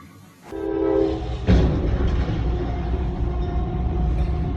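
Train roaring past at close range, a loud sustained rumble with a brief horn blast at the start, then continuous rolling noise with no talking.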